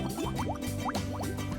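Water pours into a bath with lemon slices and a sweet-smelling bath bomb, giving a steady, close gurgling fill with rising watery tones for a short stretch.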